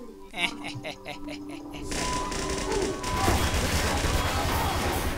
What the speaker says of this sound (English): Why did the nade explode?